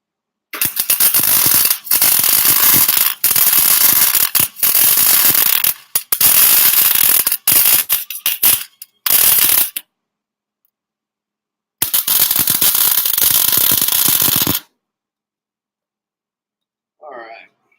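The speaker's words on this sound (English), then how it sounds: "Might put just a little bit more weld on this side here." Arc welding a hitch onto a four-wheeler: loud bursts of crackling, sizzling weld arc separated by short pauses, then a long silence and a faint brief sound at the end.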